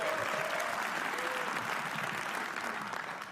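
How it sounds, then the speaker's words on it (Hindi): A live comedy roast audience claps steadily for the comedian Solanki, a continuous even patter of many hands at moderate distance that tapers slightly toward the end, with no talking over it. "सोलंकी के लिए तालियां बजा दो आप लोग।"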